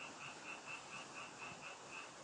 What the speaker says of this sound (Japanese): 聞こえますこのカエルの鳴き声。